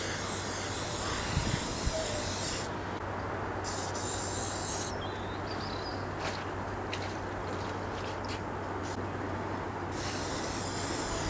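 Lacquer sprays onto a restored Dinky Austin Healey model car and its wheels, a steady close hiss running throughout, with several short sharper bursts of spray in the middle.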